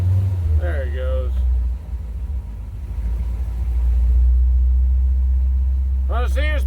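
Low engine rumble from a 1935 Chevy car rolling along slowly at about 10 mph, a steady close drone with a short break in the middle. Voices speak over it near the start and again at the end.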